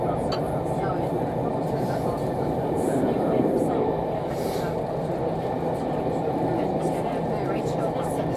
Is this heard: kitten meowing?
no